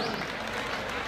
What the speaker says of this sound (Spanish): ¡Fuerte el aplauso, mi público!